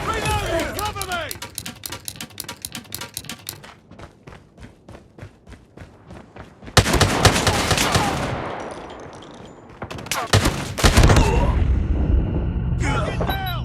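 Striker shotgun fire in the Call of Duty Mobile video game: a run of rapid, evenly spaced booming shots, then heavier bursts of blasts with short pauses, loud and close.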